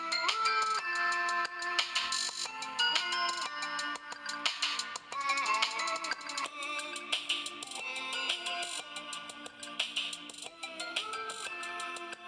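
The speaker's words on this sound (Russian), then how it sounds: "у телефона есть стереодинамики и звучат они довольно хорошо" Music with melody and steady beat plays from the small stereo speakers of a Xiaomi Qin 2 phone, fairly clear but thin, continuing without talk.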